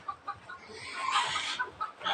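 Chickens cluck in short, uneven bursts nearby, with a brief louder squawk in the middle.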